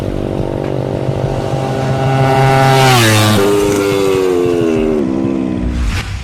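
A twin-cylinder motorcycle exhaust burbles steadily close by, then revs up with a rising whine before settling back to a lower throbbing idle.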